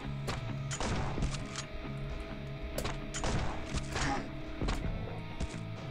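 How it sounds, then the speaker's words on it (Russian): Grenade launcher firing in the Stickman Zombie video game, a series of sharp thumping blasts and bangs at irregular intervals over a steady game music bed, fairly quiet overall. "Я взял гранатомет."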